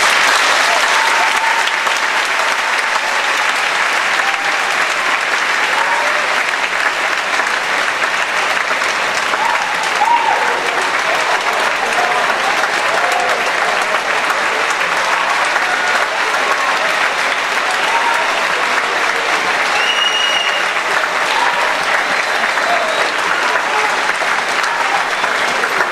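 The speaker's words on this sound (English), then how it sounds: "I think we owe these two gentlemen a huge round of applause." Sustained audience applause fills a high school auditorium after a Q&A session, a dense, steady wash of clapping from a large crowd that holds at a constant level for the whole stretch, with a few faint voices mixed in.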